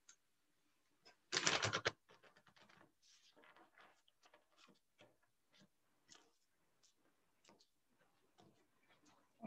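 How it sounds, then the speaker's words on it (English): Oracle cards being shuffled by hand during a reading, a short dense riffle burst early on followed by light scattered card taps and handling clicks, soft and close. "One more shuffle."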